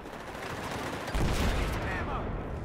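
Battlefield 4 multiplayer gunfire, a burst of rapid shots swelling loudly midway through a short stretch, harsh and close with a rumbling low end.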